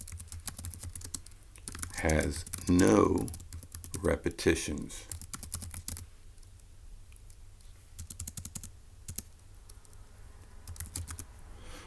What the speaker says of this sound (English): let's go ahead and type that up in our notes for section E